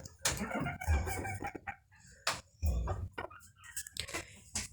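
White-eared bantam chickens cluck and squawk in quick, irregular bursts, close by and fairly loud, with no talking.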